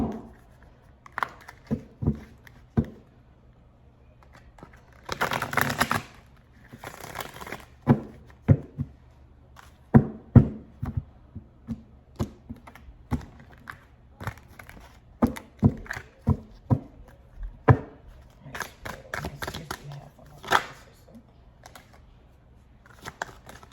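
Tarot cards are shuffled by hand in a quiet room, producing irregular bursts of riffling and sharp card snaps with short pauses between, close and fairly soft.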